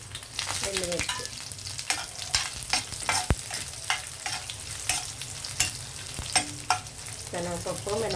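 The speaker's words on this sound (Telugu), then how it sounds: "శనగపప్పు, మినపప్పు, వెల్లుల్లి, జీలకర్ర, ఆవాలు, ఎండుమిర్చి వేసాము. ఇప్పుడు ఇవి వేగాయండి." Chana dal, urad dal, garlic, cumin, mustard seeds and dried red chilies frying in hot oil, a continuous close sizzle broken by frequent stirring scrapes and a few sharp clicks of a spoon against the pan.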